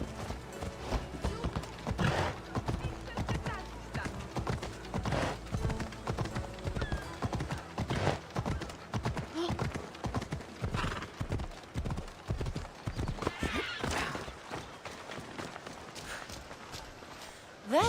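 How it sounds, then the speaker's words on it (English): Steady clip-clop of horse hooves trotting along in Assassin's Creed Odyssey, with a horse whinnying partway through over a faint game background. "It's a very nice horse. A sturdy horse."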